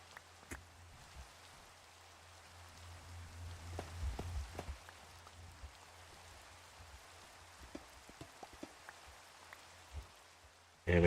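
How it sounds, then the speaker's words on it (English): Steady rain falling in Minecraft, a soft continuous hiss at low level with a few scattered drop-like ticks and thuds throughout, no voices. "And of course it's raining now."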